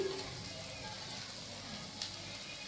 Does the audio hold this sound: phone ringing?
no